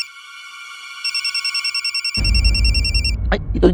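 A telephone bell rings in an indoor scene, a trilling electronic burst of rapid pulses pulsing for about a second, after which voices and background music come in over it as the ringing tone fades out.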